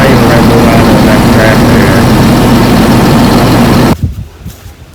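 A John Deere 7720 tractor engine running loud and close, a steady low diesel rumble for about four seconds before it cuts off abruptly, leaving faint shuffling.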